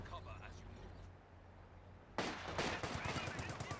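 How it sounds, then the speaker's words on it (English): Rapid bursts of paratrooper squad gunfire in Company of Heroes 2 start abruptly partway through, crackling in dense rattling volleys after a quieter stretch, with a voice heard. "Got the paratrooper squad firing away"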